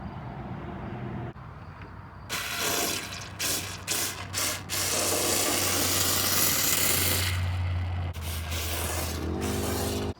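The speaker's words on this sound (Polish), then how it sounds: "tutaj wlejemy olej, żeby ten spaw był zaolejowany" Oil poured and splashed onto a weld inside the rusted sill of a 1969 Mercedes 280, heard as irregular close hissing and gurgling bursts over a low steady hum.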